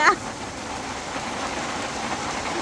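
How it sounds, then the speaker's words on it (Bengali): Steady rain hisses evenly throughout, with a brief faint voice at the very start. "কি বৃষ্টি নামছে"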